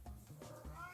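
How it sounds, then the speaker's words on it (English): A cat yowls and caterwauls in the background indoors, a drawn-out wavering cry filling the short moment at moderate loudness. "You'll have to excuse the cat screaming in the background."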